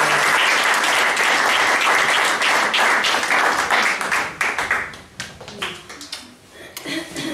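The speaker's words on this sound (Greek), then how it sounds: "Και θα ήθελα με ένα πολύ θερμό χειροκρότημα να φέρνουμε στο βήμα τον φίλο μου πια, τον Μάριο Ελία." Warm audience applause greets a speaker being welcomed to the podium at a health and nutrition seminar. Steady dense clapping fills the room for about five seconds, then thins into scattered claps with a few voices.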